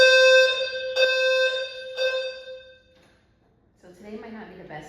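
An alarm rings outside a van in a series of loud, bright, bell-like tones that repeat about once a second and then fade, followed by a person talking.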